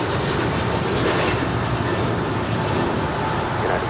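An Airbus A319 airliner at Los Angeles International Airport, a continuous broad roaring jet engine rumble at steady loudness, heard from a distance with no voices.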